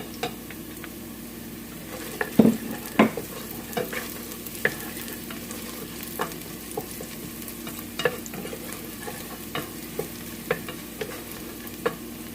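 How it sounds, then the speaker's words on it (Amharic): Garlic fries in a pot for a vegetable rice soup, giving a steady soft sizzle broken by several sharp stirring clinks and taps, with no talking. "አሁን ነጭ ሽንኩርቱን ጨምረዋለሁ።"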